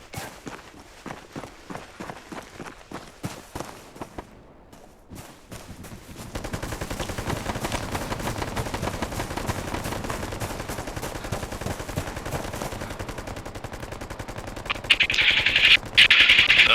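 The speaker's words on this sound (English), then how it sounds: "They are reconning by fire, not shooting at us." Gunfire in a military video game: sparse single shots at first, then sustained rapid automatic bursts and rattling fire that grow louder and denser toward the end, with no speech.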